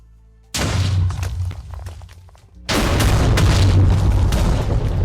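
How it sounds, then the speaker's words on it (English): Many TNT blocks explode in Minecraft: a loud booming blast, a rumbling decay, then a second, heavier wall of explosions that roars on to the end, with no talk. "To wrap up the video here, I am going to explode all of them."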